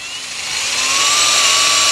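A Xiaomi Mijia 3N electric drill-driver bores a hole in wood, its high whining motor tone rising and holding steady, loud and close, with no talk over it.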